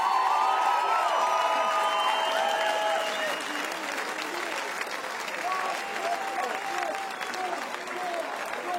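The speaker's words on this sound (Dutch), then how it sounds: "Een ovationeel applaus hier in de Hoenderstal" Ovation in a packed hall at a Dutch carnival song contest, sustained clapping with cheers and high whoops from the crowd, steady and moderately loud throughout.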